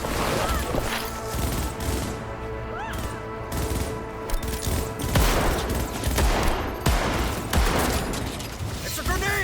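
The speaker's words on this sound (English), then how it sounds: "Oh shit, they're firing." Rapid bursts of gunfire in Cyberpunk 2077's Chippin' In side mission crackle loudly amid combat clatter and impacts, with shouting voices and music layered underneath.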